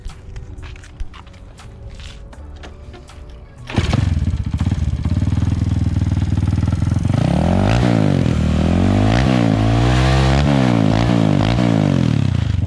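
Footsteps and small clatter, then a custom Honda C900 twin-engine motorcycle fires up and idles loudly before several throaty revs from a close, deep-toned exhaust.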